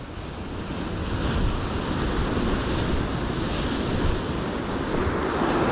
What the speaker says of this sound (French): il y a tellement de vent que je contrôle pas bien la bannière